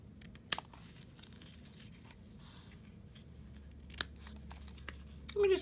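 Scissors snipping a paper greeting card, a few sharp, crisp cuts at intervals with soft paper rustling and handling sounds between them, close and quiet.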